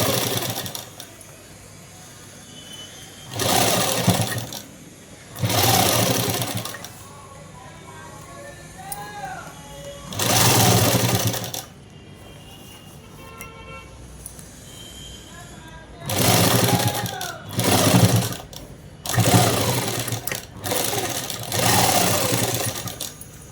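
A sewing machine stitching shirt fabric runs in several short, loud bursts with quiet pauses between them, while someone talks during the gaps.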